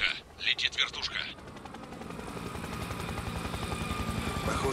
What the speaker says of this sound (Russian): Тихо, летит вертушка.